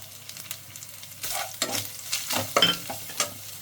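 Whole spices and a bay leaf fry in oil in a pan for a Bengali minced pointed gourd and meat dish, with soft sizzling and bursts of stirring and scraping close by.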